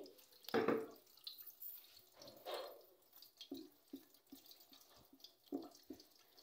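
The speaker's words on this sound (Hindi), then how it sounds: "अब मैं इसके अंदर इस सारे बादामों को डाल के और थोड़ा सा पानी डाल के इसको मैं इस तरह स्ट्रेन करूँगी" Soaked almonds and a little water strained through a cloth for an Indian almond drink: wet splashes and a sustained pour early on, then scattered soft drips and trickles, close and fairly quiet.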